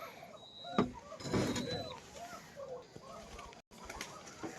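Rajshahi local Giribaj pigeons give soft, close bird calls among light rustles and a few knocking thumps, with a brief dropout near the end.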